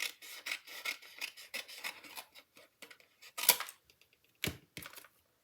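A paper thank-you card is cut out up close: a run of scratchy rasping strokes, then a few sharp isolated snips and taps separated by silence.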